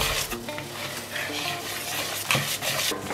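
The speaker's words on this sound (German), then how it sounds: "So, und dann rühre ich es mit meinem Schneebesen." Thick cocoa cake batter whisked in a bowl, a continuous close rhythmic swishing and scraping with a brief louder clink near the end, no talking.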